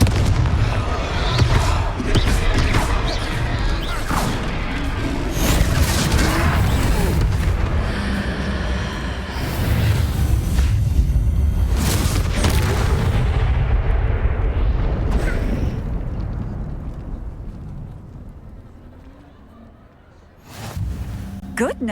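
Confringo fire spells burst during a troll fight in the Hogwarts Legacy video game, producing dense, booming explosions layered over continuous game sound and speaking voices, loud throughout before thinning near the end.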